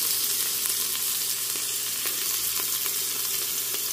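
Green chillies sizzle in hot ghee for a tempering, a dense, even crackling hiss that stays steady and close with no voices.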